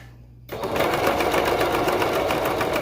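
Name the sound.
sewing machine stitching fabric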